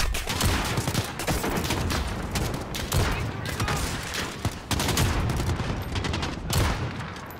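Rapid bursts of gunfire in a Call of Duty: Modern Warfare campaign mission, sharp repeated shots and fusillades packed across the whole stretch, loud and close, with a few louder blasts standing out.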